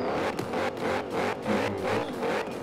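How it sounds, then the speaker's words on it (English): A Porsche Panamera Turbo's 4-liter bi-turbo V8 rumbles steadily nearby, its loud engine note pulsing in a rhythmic rise and fall of revs with no talk over it. "you will hear a lot more of this amazing 4-liter V8, bi-turbo V8 to be exact"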